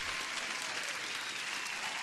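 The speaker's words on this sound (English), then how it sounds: "Huge applause to Shahid Salim" A burst of crowd applause plays during a live day-trading stream, a thick, uniform wash of many hands clapping at a constant level throughout, with no voices over it.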